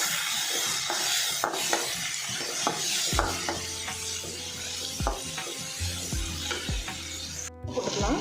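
Dried red chillies and tomatoes sautéing in a pan for rasam, a steady close sizzle with repeated scraping stirs and occasional clinks of the spoon against the pan.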